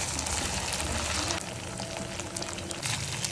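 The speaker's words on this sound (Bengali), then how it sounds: "এখানে আমি চিকেনগুলো লবণ, মরিচ, হলুদ, ধনিয়া, আদা রসুন বাটা এবং সামান্য কর্নফ্লাওয়ার দিয়ে ভেজে নিচ্ছি।" Marinated chicken pieces coated with salt, chili, turmeric, coriander, ginger-garlic paste and a little cornflour frying in a pan, giving a steady dense sizzle throughout with faint stirring scrapes near the end.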